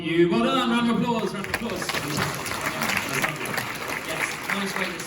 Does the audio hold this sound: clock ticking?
no